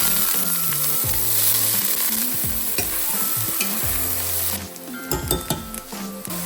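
Bay leaf, cardamom, cinnamon, cloves and diced onions sizzle and fry in a pan for chicken mandi, with steady loud crackle, stirring scrapes and clinks of utensil against the pot throughout.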